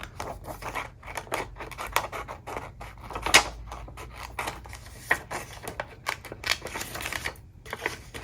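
Scissors snipping paper cutouts for a Happy Planner, close and fairly quiet, a steady series of small crisp cuts and rustles with one sharper snip partway through.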